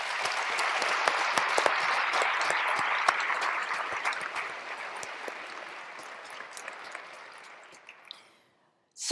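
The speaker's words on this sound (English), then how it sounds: "let's have one round of applause to thank him for being with us" An audience at a public forum on education claps in a sustained round of applause, dense and steady for about eight seconds before thinning out and stopping abruptly.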